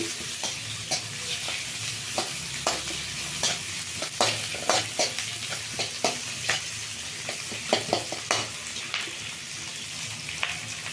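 Onion fries steadily in a pan for pea gravy, a continuous sizzle broken by regular light clicks and scrapes of stirring.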